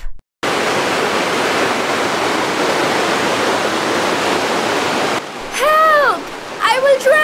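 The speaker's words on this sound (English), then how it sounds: "The water! The dam failed!" Rushing floodwater from a failed dam, a loud, dense roar that starts abruptly and runs continuously for about five seconds before cutting out, followed by shouting voices.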